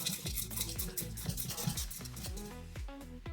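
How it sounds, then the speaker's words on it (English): Moimoi batter being stirred together with fish in a bowl, a soft continuous scraping and wet mixing rhythm, close and quiet, with faint clinks of utensil against the container. "I will turn the fish inside, mix it together."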